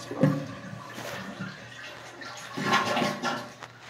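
A 1989 American Standard Cadet toilet flushes with its siphon jet plugged, in uneven, gurgling bursts, water sloshing and churning irregularly rather than in one smooth rush.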